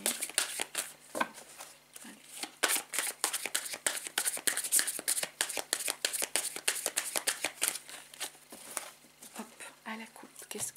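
A deck of cards is shuffled and cut close by, quick riffling bursts and soft papery flicks repeating steadily at a low level, with someone speaking French over the handling.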